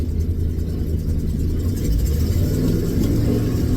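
A 1984 Ford F250 engine idling high after a cold start, a loud steady low rumble with slight fluctuations, close by and uninterrupted throughout.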